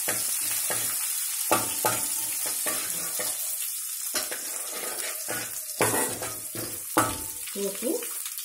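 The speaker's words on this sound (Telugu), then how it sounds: "ఆయిల్ వేడెక్కింది కదా, ఇప్పుడు పోపు దినుసులు వేసుకుందాం." Tempering spices and green chillies crackle and sizzle in hot oil in a home kitchen for pesarattu upma, a steady loud frying hiss broken by sharp pops and stirring clinks.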